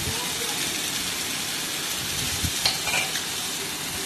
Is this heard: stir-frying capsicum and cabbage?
yes